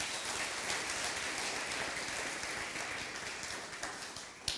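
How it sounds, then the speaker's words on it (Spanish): A church congregation breaks into sustained applause during a Spanish-language sermon, a dense, steady wash of clapping that fades slightly toward the end, with no talking over it. "Dele un aplauso al Señor por eso."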